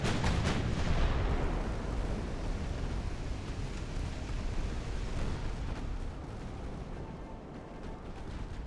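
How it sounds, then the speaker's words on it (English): A salvo of torpedoes from twin five-tube launchers fires in the naval warfare game Ultimate Admiral: Dreadnoughts, opening with a loud, heavy burst that rolls into a long rumbling roar and slowly fades, with no talking. "You have fired your first salvo of torpedoes."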